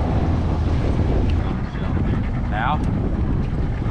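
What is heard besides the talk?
wind blowing while out on a fishing boat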